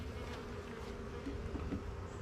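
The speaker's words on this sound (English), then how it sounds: "This hive is not overly abundant with bees." Honey bees buzzing around an opened hive holding bamboo frames and stored honey: a soft, continuous droning hum, fairly quiet and close, with a few individual bees passing nearer.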